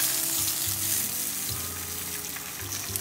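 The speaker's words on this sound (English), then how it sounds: "The fish has been frying now for 8 minutes." Sheepshead fish frying in oil over medium heat, a dense continuous sizzle and crackle with a low underlying hum, close and steady with no voices.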